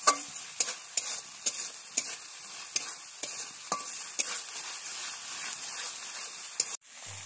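Spice paste for an eel fish curry fries softly in a pan, with a faint, steady sizzle and a spatula scraping at an even pace. A sharp clunk sounds near the end.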